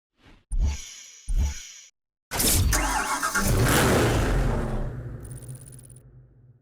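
Bugatti Veyron Grand Sport in Need for Speed Hot Pursuit: two short engine blips, a pause, then a loud engine roar that swells and gradually fades, heard alone without talk.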